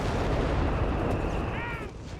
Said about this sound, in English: There's artillery.